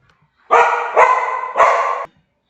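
A dog barks indoors three times in quick succession, loud and close, with silence before and after.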